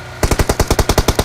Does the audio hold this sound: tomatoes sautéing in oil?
no